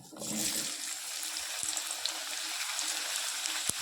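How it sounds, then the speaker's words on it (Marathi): Potatoes dropped into about fifty grams of hot oil sizzle and fry steadily, a loud, continuous hiss that rises at the start and holds with small crackles throughout. "आपल्याला अगदी सोनेरी रंग येईपर्यंत आलू तळून घ्यायचा आहे"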